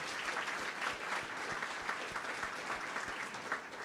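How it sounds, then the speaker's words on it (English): An audience at a community celebration event applauds steadily and fairly loudly, with dense, even clapping from a large crowd throughout and no speech. "Big round of applause for them."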